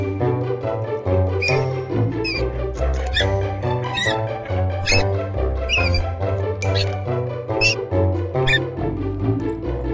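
Repeated high squeaks of a mouse come through over a busy backing music track with a steady beat, the music loud throughout.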